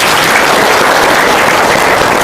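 An audience applauding at an Indonesian seminar, dense and loud steady clapping throughout, with no voices over it.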